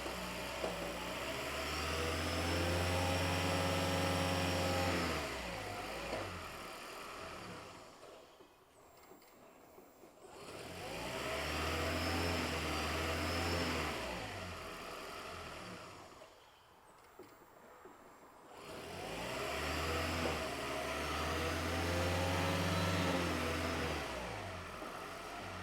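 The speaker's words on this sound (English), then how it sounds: "Let me start the engine." A Toyota Prius engine with a check engine light fault cranks and runs with a steady mid-pitched drone, revving up and dropping away twice in repeated cycles; no voices.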